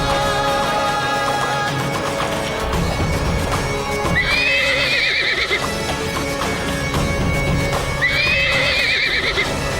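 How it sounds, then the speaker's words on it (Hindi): A horse in a Maharana Pratap historical drama neighs loudly twice, each whinny a few seconds apart, over a dense bed of hoofbeats and action-scene noise. "पागल घोड़ा यहाँ क्या कर रहा है?"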